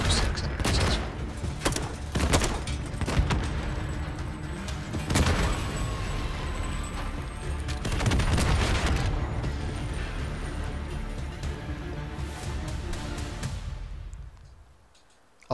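Rapid bursts of FR 5.56 rifle gunfire in the video game Call of Duty MW3, with loud repeated shots and booms across the whole span before a fade at the end, and a faint voice beneath.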